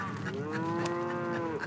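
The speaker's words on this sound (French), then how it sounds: "une mare où les zébus et les chèvres viennent s'abreuver" Zebu cattle low at a watering pond in drought-stricken Madagascar, one long drawn-out moo carrying steadily from start to finish, close and clear with no voices.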